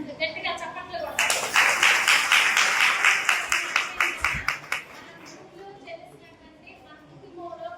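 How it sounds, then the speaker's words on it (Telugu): Audience applause at a public event in Palnadu, a dense burst of many hands clapping that swells for several seconds, then thins out into scattered claps and room noise. "మేడం గారు గొప్ప సందేశాన్ని మనకు అందించినందుకు గట్టిగా చప్పట్లు కొట్టాలి"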